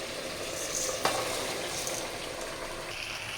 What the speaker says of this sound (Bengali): বন্ধুরা, আমি এটাকে ভালো করে নেড়ে চেড়ে নিয়েছি।